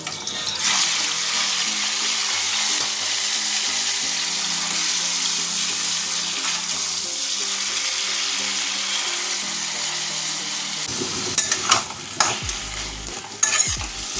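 Boiled taro leaves tossed into hot oil with dried red chilli, cumin and green chilli, giving a loud continuous sizzle and hiss, followed near the end by clattering stirring.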